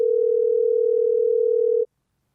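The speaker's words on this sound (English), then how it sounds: "We're calling up Guillermo right now" An outgoing telephone call's ringing tone: one steady, loud electronic tone holding for nearly two seconds, then cutting off abruptly into silence.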